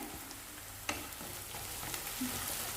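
Ginger garlic paste and slit green chillies fry with onions in a pan for a paneer gravy, giving a faint, steady sizzle with a soft click or two of stirring.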